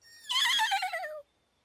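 A cartoon delivery horse gives a single bright, clear whinny lasting about a second, rising then falling in pitch and heard alone with no talk.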